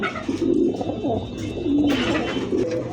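Pigeons at a farm keeping a rare collection, cooing in low rolling calls that repeat and overlap throughout, close by and fairly loud, with no voices.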